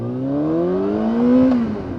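A Yamaha YZF R6 motorcycle engine, just repaired after an RPM stuttering fault, revs smoothly and climbs steadily in pitch before dropping off, close and fairly loud, with no talk over it.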